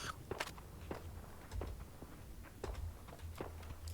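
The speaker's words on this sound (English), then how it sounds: "I was in the menu and I heard footsteps" Footsteps in the video game PUBG, a faint run of soft, irregular steps crunching along at a steady walking pace, with no talk.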